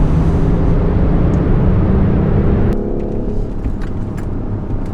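BMW i8 Roadster lapping the damp Pocono track, heard as a steady close engine and road drone that drops in level partway through as the car eases off, no talk.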